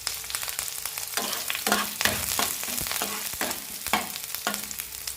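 Small onion, curry leaves and dry chili roasting in a hot pan for a cucumber pachadi, a close crackling sizzle broken by repeated scraping stirs of a spatula, with no voices.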